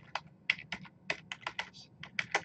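A computer keyboard clatters with quick, close, uneven keystrokes, a burst of about fifteen clicks typed in under three seconds with no talking.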